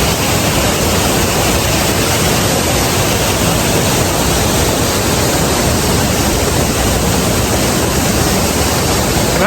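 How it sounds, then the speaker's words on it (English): A waterfall at Cheddar Gorge in Somerset rushing in a loud, continuous broadband roar that stays steady and unbroken for the whole stretch, with no voices over it. "Look at this waterfall here."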